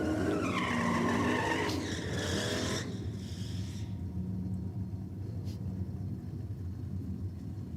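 A drag race with a 355 Tirana running radial tyres on the rear at an old school car evening, loud engine roar and tyre noise sweeping past in the first three seconds, then a steady rumble fading into the distance.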